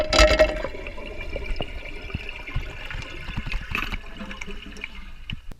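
A toilet flushes after a new flapper has been installed: a steady, close rush of draining and refilling water runs for about five and a half seconds, strongest at the start, with no voices.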